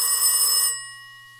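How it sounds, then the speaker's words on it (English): Telephone ringing in a house kitchen, one bright electronic ring burst that cuts off and leaves a fading tonal hum, loud and close with no voices. "The phone rings."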